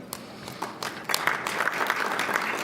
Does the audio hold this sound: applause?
yes